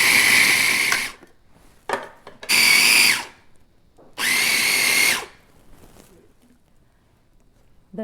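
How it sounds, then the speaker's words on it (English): A mini food processor chops shrimp for Goan-style cutlets in three loud whirring bursts, one short pulse followed by two longer runs of about a second each, separated by quiet pauses. "But I like to use this mini processor because it's quick"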